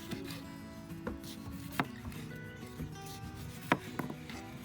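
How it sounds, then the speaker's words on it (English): A knife cuts peaches down around the pit, giving soft, faint scraping and a few light taps against the board over a low background hum. "We're going to just cut down around the pit."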